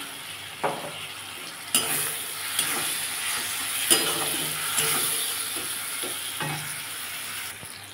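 Spices, turmeric, sugar and masala sauté in a pan for Vola fish curry, a close, continuous sizzle punctuated by several sharp stirring scrapes against the pan.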